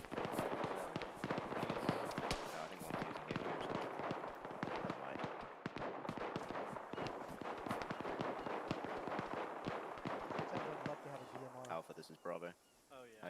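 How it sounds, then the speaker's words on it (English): Rapid, crackling bursts of distant gunfire from the military shooter ArmA 3, sustained and dense throughout, with low voices talking underneath. "More shots west."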